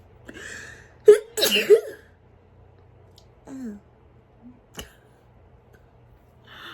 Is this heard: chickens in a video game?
no